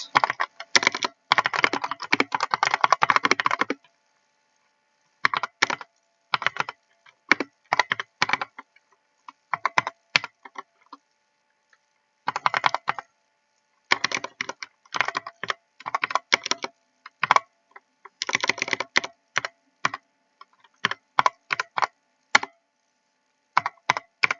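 Typing on a computer keyboard to write a document in MS-DOS Edit running in a VirtualBox virtual machine; close, crisp bursts of rapid keystrokes separated by short silent pauses.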